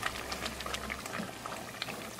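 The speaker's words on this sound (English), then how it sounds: "The water started to boil." Water boiling in a lidded pot on a gas stove while cooking makhana matar curry, a steady low bubbling simmer with small scattered pops, close and continuous throughout.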